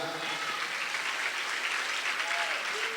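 A church congregation in São Vicente applauds steadily for about three seconds, a dense, even wash of clapping that fills the room, with faint voices and a brief sung or spoken tone rising through it.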